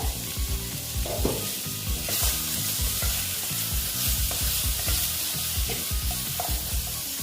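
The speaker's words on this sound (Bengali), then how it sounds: "একটু আস্তে আস্তে ভাজা উঠে দিচ্ছি দেখে নিচ্ছি আবার" Potatoes, bitter gourd and pumpkin sizzle in a hot pan while a utensil scrapes and stirs them in repeated knocks and scrapes, close and steady throughout.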